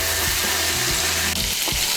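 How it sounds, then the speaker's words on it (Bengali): Fried cauliflower pieces being turned into spice masala in a pan produce a loud, close sizzle with soft scraping and stirring strokes throughout two seconds. "ফুলকপিগুলোকেও হালকা হাতে মশলার সঙ্গে মিশিয়ে নেব।"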